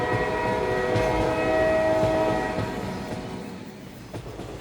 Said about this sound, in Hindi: और ट्रेन चल पड़ी।